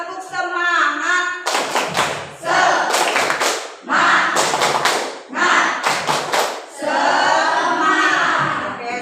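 A class performs a rhythmic spirit clap, with bursts of sharp, loud clapping and thumping in patterned groups that alternate with children chanting together, close and energetic.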